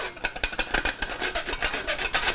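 Flour is sifted into a bowl for banana bread, producing rhythmic, scratchy rasping strokes of the sifter, close up and fairly quiet, with no talking.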